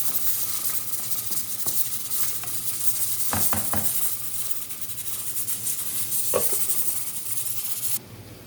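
Tibs, meat frying in a pan with chili, onion and a little butter, gives a steady close sizzle with a few brief stirring clatters, and no talk over it.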